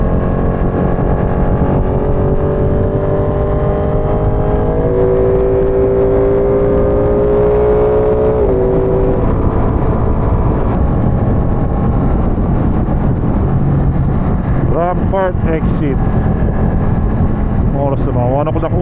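Ducati Panigale 959 Corse with an Arrow slip-on exhaust: a continuous engine drone at riding speed under steady wind roar, with pitch rising and falling as it revs, while someone talks over it.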